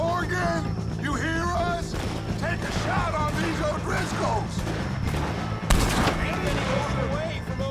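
Gunfire in a Red Dead Redemption 2 shootout against the O'Driscoll gang, a dense run of overlapping shots with one sharp, loud burst late on, mixed under shouting voices.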